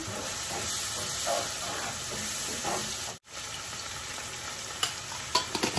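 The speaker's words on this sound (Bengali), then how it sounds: "মশলাটা 3-4 মিনিট রেস্ট করে একটু কষিয়ে নিলাম" Spices for a prawn and sweet pumpkin curry fry in a pan, giving a steady close sizzle and hiss, with brief scraping clicks near the end.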